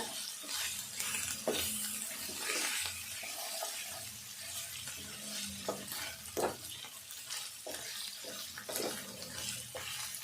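Chicken frying in a pan with ginger garlic paste for a Telangana chicken fry, sizzling continuously while a utensil stirs and scrapes in irregular bursts, close and fairly loud.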